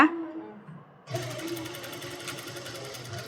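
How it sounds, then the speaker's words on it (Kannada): A sewing machine stitches a round neckline, its quiet motor whirring with a fast, steady needle clatter that starts after a short pause. "ಇವಾಗ ರೌಂಡ್ ನೆಕ್ಕು ಸ್ಟಿಚ್ ಮಾಡ್ತೀವಿ ನೋಡಿ"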